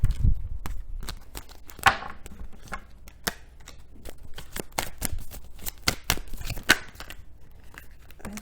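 Tarot cards being shuffled at a yearly Capricorn reading: a steady run of crisp, close riffles and slaps, with sharper card snaps at a few points and no talk.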